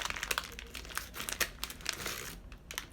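Twix candy bar wrapper being torn and crinkled by hand, a quiet burst of crackling plastic rustles and small rips over a few seconds, close to the listener.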